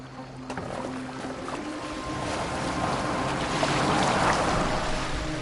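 A boat moving across open water in the video game Assassin's Creed Valhalla, with a steady wash of waves and wind that swells gradually louder over the few seconds, no talk.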